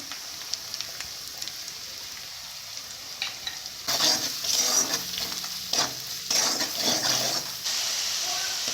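Meat frying in a pan with salt, turmeric and chili, quiet low sizzle at first, then louder bursts of stirring and scraping with hissing oil in irregular waves.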